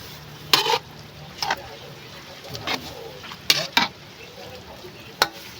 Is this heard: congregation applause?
no